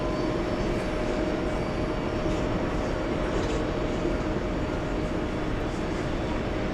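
An Airbus A380 airliner on approach to JFK airport, a loud, steady broadband engine roar that holds evenly throughout, heard alone with no talking.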